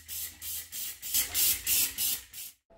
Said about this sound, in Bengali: এটা হচ্ছে কিচেনের চিমনির কভার, যেটা আমি এখন অয়েল ক্লিনার দিয়ে কিছুক্ষণ ভিজিয়ে রাখবো